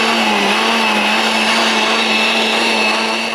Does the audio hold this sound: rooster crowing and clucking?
no